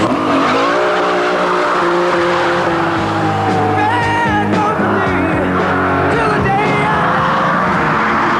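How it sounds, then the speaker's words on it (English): A Lamborghini Diablo with a 5.7 litre V12 accelerating hard past a Golf GTI on the Castle Combe racetrack in Wiltshire, a loud roaring engine climbing through rising revs with tyre squeal, close and dominant throughout. "What I am going to do is demonstrate just how fast the Diablo accelerates"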